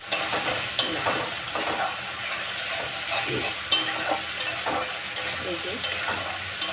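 A spice paste of ginger, garlic and onion frying in oil in a pan, with steady close sizzling and a few stirring scrapes, and a brief spoken word over it.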